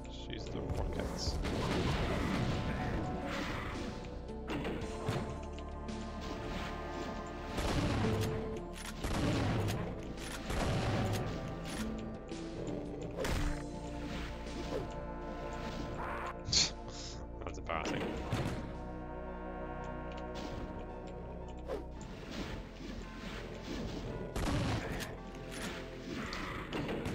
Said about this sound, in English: Let's use the rockets.